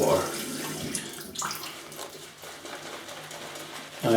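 Water running from a tap while extra water is worked into shaving soap lather, a steady soft splashing hiss with small gurgles and brief surges, fairly close and quiet.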